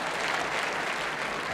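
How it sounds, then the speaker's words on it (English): Stadium crowd at a 1978 English league football match applauds, a steady, fairly distant wash of clapping from the stands. "Applause for that one."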